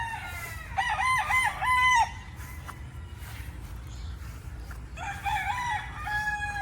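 A rooster of the Althea White gamefowl bloodline crows twice outdoors among other chickens, two loud, drawn-out calls separated by a few seconds of quieter farmyard background.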